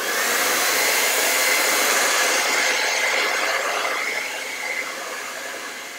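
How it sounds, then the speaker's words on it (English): A hair dryer held very close to a painted canvas blows continuously, a loud steady rushing whine that eases slightly toward the end. "I'm going to take the hairdryer, hold it very close to this canvas,"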